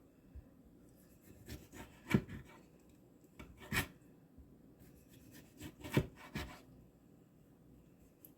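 A kitchen knife being sharpened in a home kitchen, with several separate scraping, rasping strokes of varying loudness spread unevenly across the clip, close by, and no talking.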